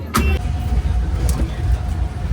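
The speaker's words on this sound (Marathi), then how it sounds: "आम्ही बसमध्ये बसलोय" A bus travels along the road to a temple in Hampi, its steady engine and road rumble running low and continuous throughout, with a brief rattle near the start.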